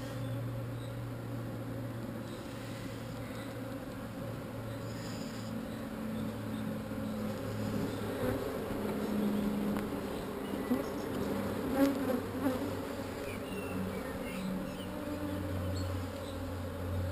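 A dense, steady hum of many honeybees at an open hive with pollen, brood and drone cells, a close continuous buzz of fairly low level that swells slightly midway.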